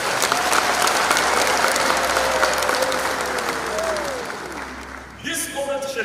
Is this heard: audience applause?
yes